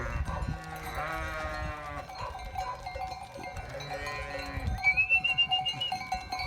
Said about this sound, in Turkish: Otlamaya mı gidiyor Murat abi bunlar?